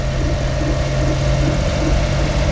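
A broken Honda Beat's engine runs steadily while the car moves in gear, giving a continuous loud, low drone close to the microphone with no speech over it.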